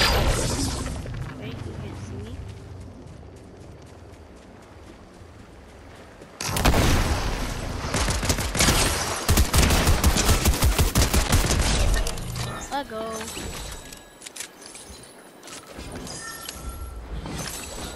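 Gunfire in Fortnite erupts partway through, a loud burst of rapid shots and impacts following a quieter stretch, then tapering off, with a voice talking over parts of it.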